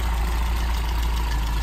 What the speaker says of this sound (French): Et voici le petit moteur, un 1800, 4 cylindres, alimenté par 2 carburateurs.